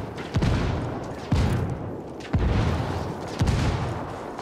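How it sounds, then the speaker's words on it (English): Indirect artillery fire strikes in Ghost Recon Wildlands land as four heavy booms about a second apart, each followed by a rumbling decay, loud and close with no talk. "I'm calling for indirect fire."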